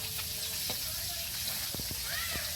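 Fish sizzles steadily in a frying pan, a constant hiss with small clinks and bumps of utensils close by.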